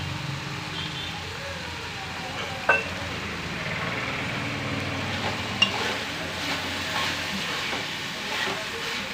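Raw plantain curry frying in hot oil, a steady soft sizzle and hiss throughout with a couple of sharp utensil clicks, close and without talking.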